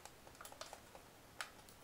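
Someone typing on a computer keyboard while playing Minecraft Java Edition, with a few faint, close key taps in a short irregular burst and one sharper press near the end.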